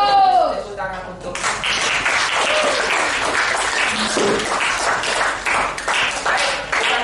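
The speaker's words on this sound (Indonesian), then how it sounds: "Tepuk tangan untuk." Grade 7 students in a school classroom clap together after a teacher's call. The clapping is fairly loud and uneven, with children's voices mixed in, and it runs on for several seconds.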